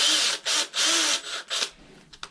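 A power drill on a Yamaha Banshee ATV, drilling out the carburetors, whines in three loud sustained bursts with brief pauses, then a shorter burst and a few scattered clicks and taps.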